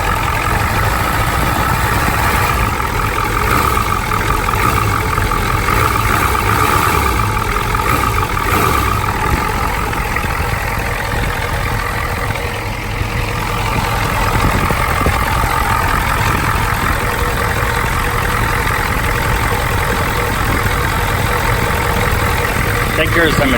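A farm vehicle's diesel engine idles roughly and shakes, likely from bad injectors, running as a steady close rumble for the whole stretch while someone talks over it.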